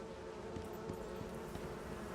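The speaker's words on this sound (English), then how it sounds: "Bees." Bees in the game Icarus make a faint, steady buzzing drone close by, with a few soft ticks and clicks over a quiet outdoor ambience and no talking.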